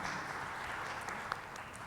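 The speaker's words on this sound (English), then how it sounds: "Please give a round of applause to Nadine." An audience at a business innovation panel applauds a panelist, a brief steady wash of clapping heard from across the room, fairly faint and without talking.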